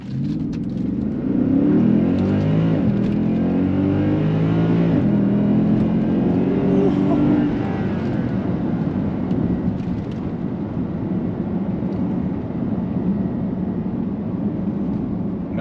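Mercedes ML63 AMG with a stage 1 tune, engine revving hard during a brake-boosted launch: a loud, close roar climbing through the rev range, then settling into a sustained drone as the vehicle pulls away.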